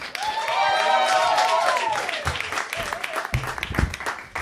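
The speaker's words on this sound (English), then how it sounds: "Keep that applause going for your next comic" Loud applause and cheering from a stand-up comedy audience fill the room, gradually fading as a comedian starts speaking over it.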